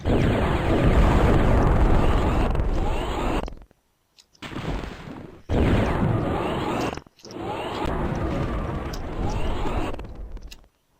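A super bomb detonates in the 1997 DOS shooter Katharsis, giving loud, sustained blasts of roaring noise in several long bursts separated by abrupt silent gaps.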